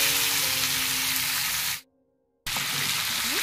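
Marinated local chicken sizzles and hisses steadily as it is stirred and fried in a pan. The loud frying breaks off into brief silence, then resumes with the same dense crackle.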